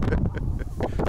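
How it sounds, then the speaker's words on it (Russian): Strong wind buffets a microphone outdoors among rocky outcrops and mountains, a close, loud, rumbling roar with uneven gusty pulses throughout a brief moment. "Ветер-ветер-ветер-ветрюган."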